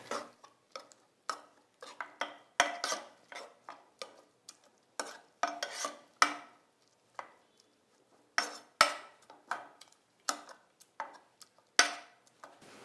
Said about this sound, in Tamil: வெந்துச்சு பாருங்க, நல்லா வெந்துச்சு. இதை நல்லா மசிச்சு விட்டுடணும்.